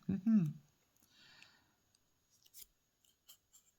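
A brief voice opens, then scissors cut through a piece of material with a short rustling snip and a few small clicks, close and faint against a quiet room.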